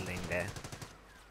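Machine gun fire from an MG squad in the Company of Heroes strategy game: a loud, rapid burst of automatic shots in the opening half, then trailing off into scattered fainter pops.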